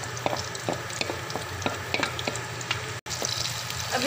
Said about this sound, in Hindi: अब हमने अपनी कढ़ाई में 1 कप ऑयल डाल लिया है। अब हमने इसमें प्याज ऐड कर दिए।